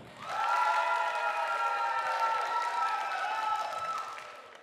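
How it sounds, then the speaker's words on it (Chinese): At a 2015 Top Idol national finals singing contest, the audience applauds and cheers to vote for contestant Song Yunqiao, a sustained, fairly even wave of clapping and voices that rises quickly and fades at the end. "宋云乔应该晋级的话，请用掌声来告诉我"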